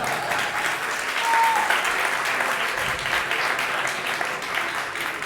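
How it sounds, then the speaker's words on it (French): A company keynote audience breaks into steady, dense applause that swells briefly and then holds at an even level for several seconds. "on applaudit Sheik"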